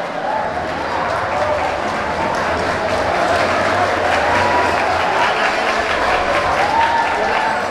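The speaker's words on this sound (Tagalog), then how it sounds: "Palakpak yung mga tao." A boxing crowd at a professional bout applauds steadily, a dense wash of clapping with some cheering, sustained and fairly loud throughout.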